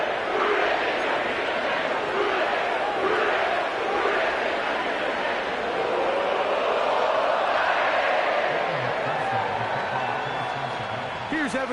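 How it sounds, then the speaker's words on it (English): A sellout crowd at Paycor Stadium in Cincinnati for a Thursday night football game, heard as a steady, loud roar of many voices that fills the whole stretch without pause. "sellout crowd has arrived at Paycor Stadium in Cincinnati"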